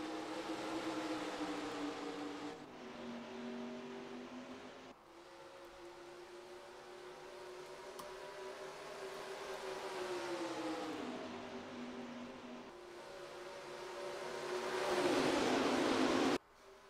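Race cars accelerate at the green flag at Homestead in NASCAR Racing 2003, a pack of engine tones rising and shifting through gears, swelling louder near the end as the field roars past.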